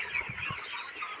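Broiler chickens in a poultry farm shed cluck softly and continuously, a faint crowd of birds heard at a distance for a brief moment.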